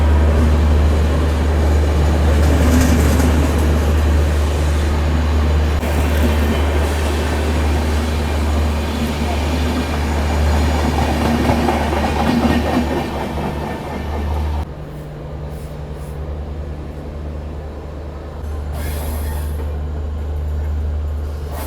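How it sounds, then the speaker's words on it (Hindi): Amrapali Express train rolling past alongside near Ludhiana Junction, a loud steady rumble of wheels and carriages that continues throughout, dropping off sharply partway as the passing train clears. "और बगल से निकल रही है आम्रपाली एक्सप्रेस।"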